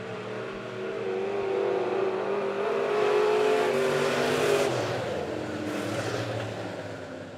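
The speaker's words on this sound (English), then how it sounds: "the problems are too much for Daryl Riddick as he runs his fastest lap last time by." Dirt track modified race cars roar past during a heat race at Monett Motor Speedway, loud sustained engine noise with rising revs and a car sweeping by, no talk.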